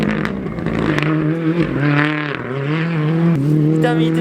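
Rally cars racing through a hairpin turn on snow, mud and ice, engines droning loud and close with shifting revs as they pull through the bend, a voice speaking over them.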